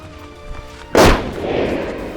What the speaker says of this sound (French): On a déjà entendu un coup de feu dans la fagne